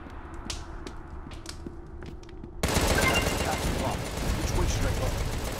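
Weapon fire in the video game Contra Rogue Corps: a dense, continuous burst of shots kicks in partway through, loud and sustained after a quieter stretch of scattered sharp game sounds.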